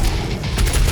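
Rapid gunfire from a weapon in the video game DOOM Eternal, a loud continuous burst of fast shots with booming low end filling the whole second.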